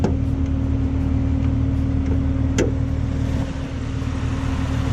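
Supercharged LT4 V8 in a 2018 Camaro ZL1 idles smoothly with the hood open, a steady low hum with a constant whine and a few faint clicks, close and alone.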